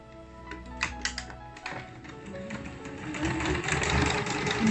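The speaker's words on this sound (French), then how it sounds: "Je vais le coudre bien comme il faut." A sewing machine stitches a knot into a scarf, its needle chattering in a fast, steady run up close, gradually growing louder and denser toward the end.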